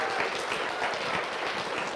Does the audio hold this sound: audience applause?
yes